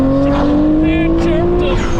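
A Nissan Skyline R33 GTR launches hard with a brief tire chirp over a loud, rising engine note, heard close by.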